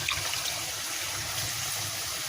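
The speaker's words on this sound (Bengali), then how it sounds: "এখন এটা একটু ধুয়ে আমি পানির ঝাপটা দিয়ে দেবো" Water splashed into a pan of cooking chicken, a steady broad rushing pour lasting the whole moment, fairly close and alone without talk.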